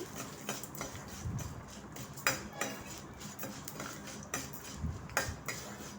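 A spatula repeatedly clinks and scrapes a pan while fried ridge gourd peel and dried chillies are stirred, quiet and close with irregular sharp taps among a soft rustle.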